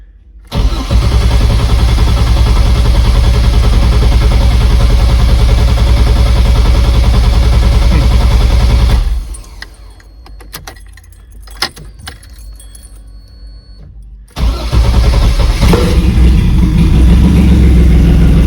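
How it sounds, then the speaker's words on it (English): A Pontiac Fiero engine runs loudly, cuts out with jingling keys and clicks, then cranks and roars back to life close by. No backfire pop stands out. "There she goes, the backfire."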